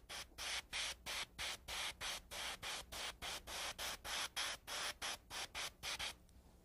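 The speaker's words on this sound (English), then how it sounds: "depending on how much white you spray down" An airbrush spraying white paint onto fingernails in short, even bursts, about twenty quick hisses in a steady rhythm before it stops.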